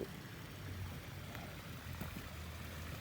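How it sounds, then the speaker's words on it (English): Water trickles softly from a newly installed drip irrigation line around native plants in a Manhattan Beach permaculture garden, a faint continuous wash with no voices. "This is drip irrigation that's just gotten done around all the natives"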